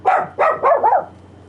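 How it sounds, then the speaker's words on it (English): A dog barks four times in quick succession, fairly close and loud, with no talk over it, in the background of a Fortnite gaming podcast. "Why are you barking?"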